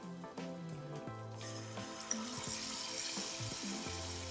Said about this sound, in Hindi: ऑयल हमारा गरम हो चुका है, तो हम इसमें पनीर के क्यूब्स डालेंगे